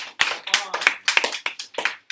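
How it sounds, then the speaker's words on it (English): Scattered clapping from a small group of students in a math classroom, a few distinct hand claps in uneven bursts rather than a full ovation, close and fairly loud. "Round of applause."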